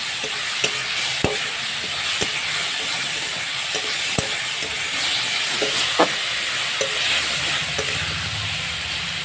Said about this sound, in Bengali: এবার ভালো করে নাড়াচাড়া করে নিচ্ছি।